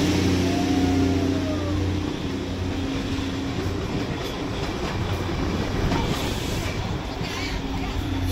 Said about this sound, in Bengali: সো এই আসছে টয় ট্রেন।